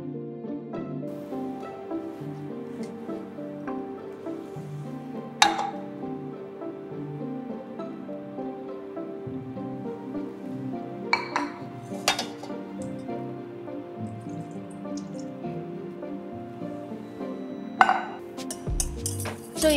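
Egg yolks, milk and corn oil being stirred together in a bowl for chiffon cake batter, with a steady scraping and tapping of whisk on bowl throughout and a few sharper clinks of utensil against the rim.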